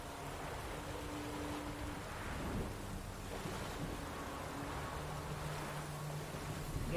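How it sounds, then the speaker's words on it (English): Thunder rolls low and distant through a stormy scene in The Witcher 3: Wild Hunt, over a steady bed of rain and wind, with soft rumbles swelling and fading. "Oh, look at that storm there."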